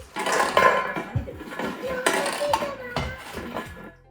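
A metal biryani pot and plates clatter and clink close by in a quick series of sharp knocks and scrapes, with a short ringing tail as the pieces settle.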